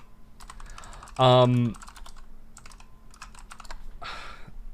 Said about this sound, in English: I know that typing just came through my mic on the podcast